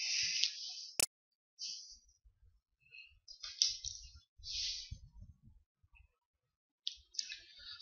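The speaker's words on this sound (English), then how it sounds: "Let's select F4 from your keyboard, function 4." Sharp clicks from F4 and other keys pressed on a computer keyboard, isolated and close, with a few short taps separated by quiet gaps.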